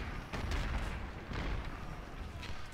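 Artillery volley fire in the Civil War strategy game Ultimate General: Civil War rolls out as a run of quiet, distant booms that merge into a low, rumbling wash.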